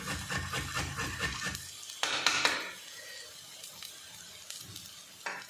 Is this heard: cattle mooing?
no